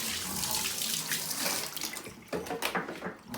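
Tap water runs steadily over a dirty circuit board, the motherboard of a Schneider CPC 664 computer, rinsing it in a sink. The splashing hiss is close and continuous, turning more broken and spattery toward the end.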